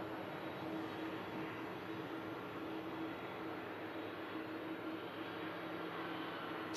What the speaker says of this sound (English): this 11-year-old TUI 787-8 Dreamliner. As I say, India Delta. Just lining up on 23 left now for departure